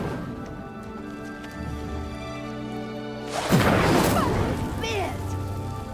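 An Incendio fire spell cast in the video game Hogwarts Legacy sets off a sudden whooshing burst of flame midway through, over a steady background of game music.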